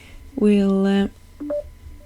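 A mobile phone sounds a sustained electronic tone followed by two short beeps, heard close during a card-making session with a person talking over it.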